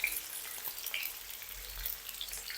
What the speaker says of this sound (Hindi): प्याज को ना अब हमने फ्राई कर लेना है